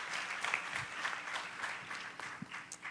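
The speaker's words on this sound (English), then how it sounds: "Another round of applause for Vanessa." Steady applause from a moderate crowd at a Girls in ICT Day event in Rwanda, a continuous patter of many hands clapping at a distance, fairly soft throughout.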